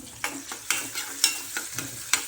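Onion fries in hot oil under a low sizzle, with a stirring spoon scraping the pan in regular strokes about twice a second.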